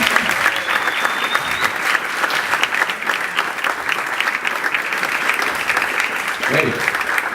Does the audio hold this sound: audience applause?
yes